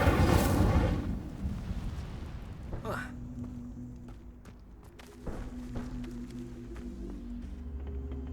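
An Incendio fire spell cast in Hogwarts Legacy opens with a loud, roaring burst that fades, then a rising whoosh and lighter scattered rumbles follow.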